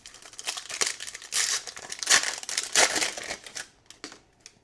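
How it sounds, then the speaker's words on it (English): Packaging of trading scene cards being opened, with a run of close crinkling and tearing of wrapper, loud bursts of rustling that trail off into a few quieter crinkles at the end. "let's put this to the side for now and open the scene cards"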